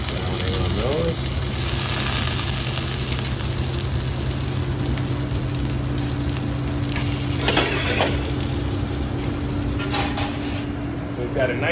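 Ahi tuna steaks hiss and sizzle steadily on a hot grill while being turned over, with occasional clinks of a utensil and a low continuous hum underneath.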